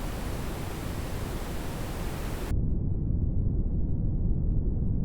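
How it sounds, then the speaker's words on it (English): A reverb tail made from a transient click, used for a techno rumble, washes out as dense, echoey brown-noise-like hiss. It starts full-range and loud, then the highs drop away abruptly and a steady, darker low rumble carries on alone. "adding reverb to a click generates something akin to the echoey kind of brown noise that we're looking for"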